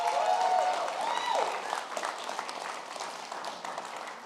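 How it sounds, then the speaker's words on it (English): An audience claps in applause, a dense wash of clapping that gradually thins and fades. "Give you a round of applause."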